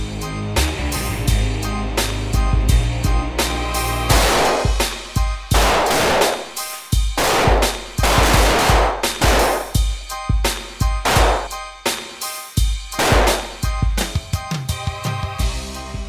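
Gunfire at an indoor shooting range during a practical shooting session, sharp loud reports fired in quick strings and single shots, echoing with dense overlapping cracks over about sixteen seconds.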